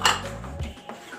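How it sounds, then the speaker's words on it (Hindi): A spoon clatters quickly against a pan while egg is stirred into semolina halwa: a sharp metallic scrape at the start, then a couple of lighter knocks, brief and close. "मैं इसके अंदर ऐसे ही डाल के इसे फटाफट हिलाऊंगी ताकि अंडा अच्छी तरह इसके अंदर मिक्स हो जाए"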